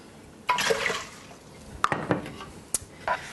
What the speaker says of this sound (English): I'll just add another 1, maybe 2 cups of water